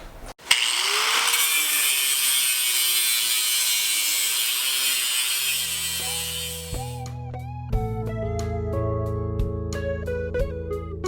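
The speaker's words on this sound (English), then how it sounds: "So what we're going to do is we'll cut it here, and cut it here, and then cut these two mounts here." A power tool cuts through the metal mounts of a go-kart frame, a loud, close, continuous high grinding whine that shifts into ringing, changing tones and sharp squeals partway through.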